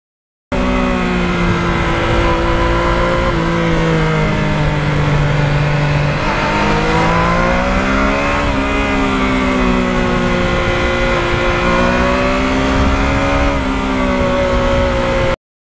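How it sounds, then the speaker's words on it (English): A Yamaha MT-09 motorcycle accelerates hard through the gears, its engine note climbing and dropping in smooth sweeps, loud and close, with steady wind and road noise and no talk. "that's the beauty of the MT09. It is a multifunctional motorcycle, well designed."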